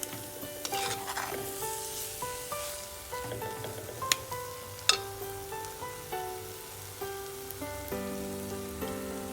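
Onion, dried red chili and cumin dry roasting in a pan, with continuous crackling and light sizzle and repeated stirring strokes, plus a couple of sharper knocks against the pan, close and steady.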